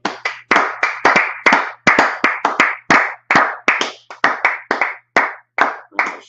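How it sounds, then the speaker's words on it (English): A group claps hands together in a quick, uneven burst of about twenty sharp claps over six seconds, close and loud, with no talk, at a Tuesday night brotherhood class. "Let's clap it up"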